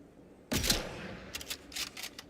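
Gunfire in the Atomfall video game, aimed at heads: one sharp, close shot rings out and decays, then a quick ragged run of several more shots follows.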